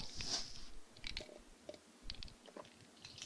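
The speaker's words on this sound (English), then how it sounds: "Not sure if you guys heard my swallows" Swallowing a drink, heard very close and quiet: wet gulps and mouth clicks in an uneven sequence, with faint clacks from the throat, and no talk.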